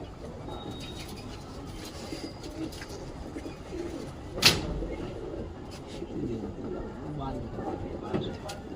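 Soft pigeon coos run low and steady through the clip, with a brief louder rustle midway, like wings flapping, amid a busy outdoor background.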